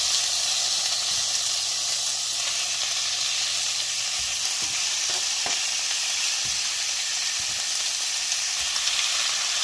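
A steak sizzles steadily in a hot skillet over medium-low heat, a broad constant hiss with occasional small pops and crackles, close and alone without voices.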